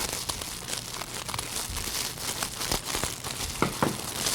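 Cut gift-wrap ribbon being pulled apart into a cabbage rose bow, giving close, continuous crinkling and rustling with sharp little crackles and tearing snaps toward the end, no talking.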